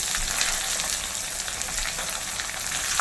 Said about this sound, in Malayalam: ഇപ്പോൾ കുറച്ച് കൊച്ചുള്ളി ഇട്ട് കൊടുക്കാം,